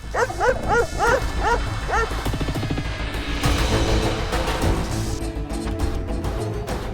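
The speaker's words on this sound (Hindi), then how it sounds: "जूही, आवाज आ रही है बहुत। जूही, पर तू देखना, रूहान डर रहा है, तू जाना, कुत्ते को भगा कर आ जा।" Dogs outside a house bark in a quick burst of sharp, repeated yaps early on, then fade under a busy, noisy background that carries on to the end.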